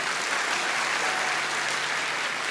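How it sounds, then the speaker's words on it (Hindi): An audience at a spiritual gathering led by a guru claps for three Muslim men who journeyed from Kashi Vishwanath, a steady, dense wash of applause filling the hall without pause. "इन तीनों मुस्लिम भाइयों के लिए जोरदार ताली।"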